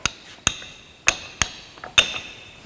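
Hammer strikes a transmission teardown tool on an NV4500 transmission, six sharp metallic clanks at uneven intervals with a bright ringing tail, close and loud, with no talking.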